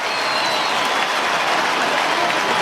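Home crowd at a Melbourne versus Carlton AFL football match roars and applauds after the first goal of the night, a dense, sustained wall of cheering and clapping throughout.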